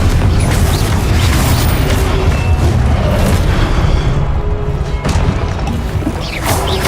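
Confringo spell explosions in Hogwarts Legacy: loud, heavy booms and crashing blasts pile up one after another, forming a near-continuous roar with a few sharper hits.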